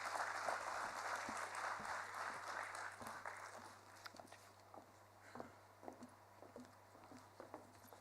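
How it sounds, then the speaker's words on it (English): Audience applause in a banquet hall at a G20 business summit in Kohima starts full and dense, then thins out into a few scattered claps. "Please give her a big round of applause."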